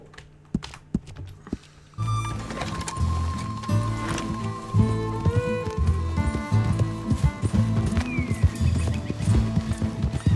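Horse hooves clip-clopping in a steady rhythm with occasional whinnies in the video game Red Dead Redemption 2, fairly close, starting after a quieter opening, with faint voices in the background.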